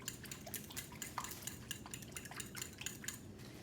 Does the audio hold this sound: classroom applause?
no